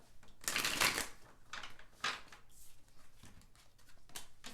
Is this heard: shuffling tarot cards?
yes